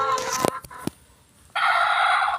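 A rooster crows near a hen coop during egg collecting, a loud sustained call after a short gap, preceded by scattered squawks and clucks.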